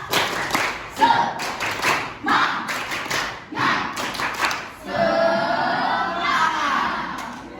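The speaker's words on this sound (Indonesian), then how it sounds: "Ya, tepuk semangat." A group of school students claps together in a quick rhythmic pattern, then breaks into a longer burst of steady applause with some children's voices mixed in.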